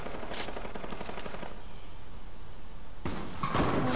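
Bursts of automatic gunfire in the video game Fortnite, a rapid rattle in the first stretch, a short lull, then another burst, close and loud with no talk over it.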